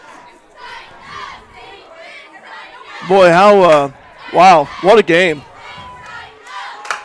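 A high school football crowd at a Fairfield vs North Mac game erupts in loud shouts and cheers in several bursts, with a commentator talking before and between them.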